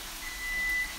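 A kitchen timer gives one steady, thin electronic beep of under half a second during pineapple fried rice cooking, faint against a constant low room hum.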